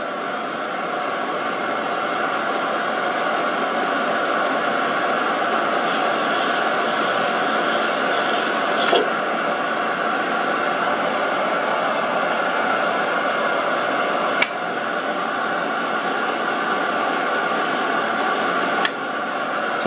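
A metal lathe motor hums steadily while the carriage feeds along with the half nut engaged, with a constant drone, high whine and a few faint clicks.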